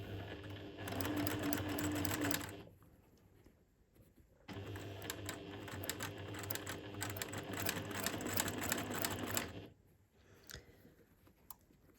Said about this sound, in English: I'm going to sew with a 1/4 inch seam allowance.